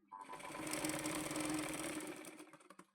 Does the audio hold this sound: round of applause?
no